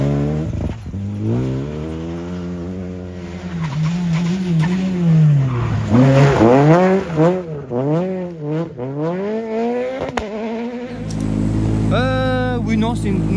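A rally car at the Rallye des Boucles de Seine slides on dirt, its engine revving and dropping in repeated rising sweeps over a steady loud drone, with a sharper high-pitched rev toward the end while people talk inside the car.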